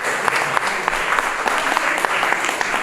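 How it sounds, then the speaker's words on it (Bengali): Steady applause from an audience at a centenary tribute concert, dense clapping throughout with a few sharper claps standing out. "একটা জোরে হাততালি হয়ে যায়"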